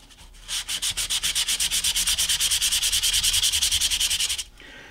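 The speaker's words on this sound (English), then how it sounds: "Now I'm cutting them bigger because we're going to sand the back of them." Steady back-and-forth hand sanding on the back of cut-out sign pieces, a rhythmic rasping scrape of roughly thirty quick even strokes, close and loud, starting and stopping cleanly with no talking.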